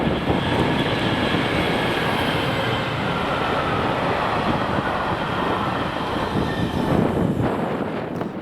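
Royal Scotsman train passing at Park Farm near Linlithgow on a Fife Circle driver and guard training run: a loud, steady rumble and roar of rolling stock lasting throughout, close by, with no voices.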